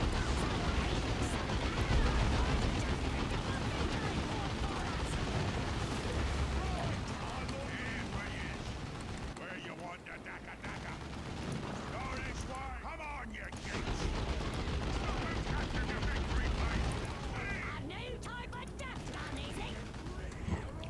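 Rapid gunfire and explosive bursts from the video game Steel Rehn, dense and continuous throughout with brief lulls, while players talk over the action.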